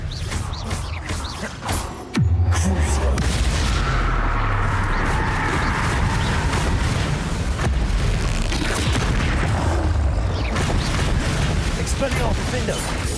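A Bombarda blasting spell in the Hogwarts Legacy video game lands as a sudden loud boom, followed by a sustained rumbling, crackling wash of combat noise that stays heavy and close.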